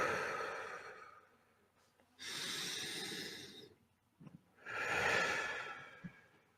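Slow, deep breaths drawn in and let out audibly near the listener, three long airy breath sounds separated by quiet pauses, with a small click between them.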